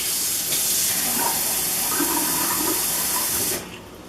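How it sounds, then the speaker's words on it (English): Tap water pours into a cooking pan with foil, a steady hissing rush that cuts off abruptly near the end, no talk. "And then a little tap water."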